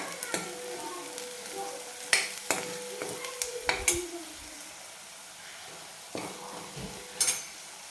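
Spices with coriander powder being stir-fried in a pan for a besan vadi curry, heard as a low sizzle broken by several sharp scraping strokes of a spoon against the pan, close and moderately loud, with quiet gaps between.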